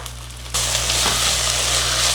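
Butter melting in a hot pan while making creamy chicken corn soup, a steady loud sizzle that starts abruptly and holds evenly to the end, with no talking.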